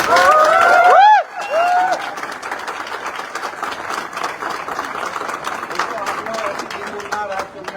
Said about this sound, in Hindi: एक जोरदार तालियां आप लोग बजाइए